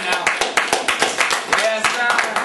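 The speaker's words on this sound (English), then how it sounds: "Everyone give him a hand clap." Hands clap for Mr. Stein in quick, evenly spaced sharp claps, a rhythmic run of close, crisp hits at a talk show gathering.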